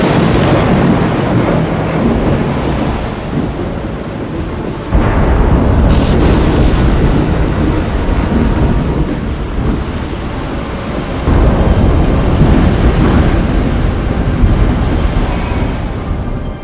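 Thunderstorm from the intro of the 1996 DOS game The Settlers II, with steady heavy rain and deep rolling thunder crashing in around the fifth and eleventh seconds, loud and continuous throughout.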